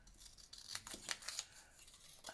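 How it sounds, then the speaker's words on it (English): Scissors snip quietly through paper and fabric in a run of several close, crisp cuts with a faint rasping edge. "I don't know what's going on with these scissors lately"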